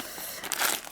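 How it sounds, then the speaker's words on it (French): A delivered package of jewellery-making supplies unwrapped nearby, a quick burst of crinkling and crumpling wrapping that grows louder toward the end. "je vais déballer."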